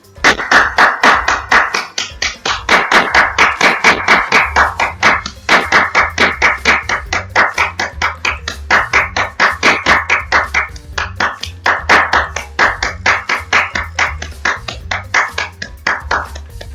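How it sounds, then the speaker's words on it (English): One person claps steadily and rapidly in sustained applause for frontline workers on a Thursday evening in the UK, loud and close, with brief pauses between bursts. "that's my applause to all the frontline workers at the moment here in the UK on Thursday evenings"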